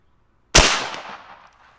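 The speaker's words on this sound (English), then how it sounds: "Let me shoot one more, and we'll see what we get." A single sharp crack from a Dragon Claw PCP air rifle fires after a moment of silence, then fades quickly with a short ringing tail.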